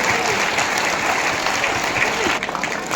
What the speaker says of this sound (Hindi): एक बार जोरदार ताली संजय सर के लिए बता दीजिए।